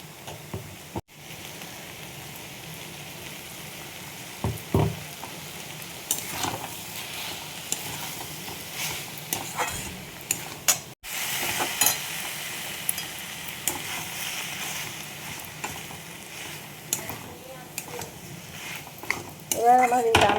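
Grated coconut stirred and fried with ash gourd in a pan, a soft continuous sizzle with intermittent scraping and clinks of a spoon against the pan, close and fairly quiet.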